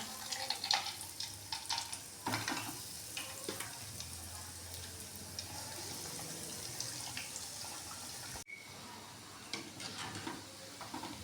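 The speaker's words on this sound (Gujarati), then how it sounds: "હવે આપણે તેલ ગરમ થઈ ગયું છે. એની અંદર પકોડા મૂકી દઈશું તળવા માટેના." Bread pakoda frying in hot oil gives a dense, steady sizzle that crackles and spits for the whole stretch, close and fairly loud, with a brief drop in the noise near the end and no voices.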